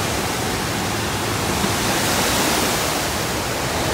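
Apikuni Falls in Glacier National Park, a waterfall pouring over limestone, heard as a constant loud broadband rush of falling water, steady and close with no voices.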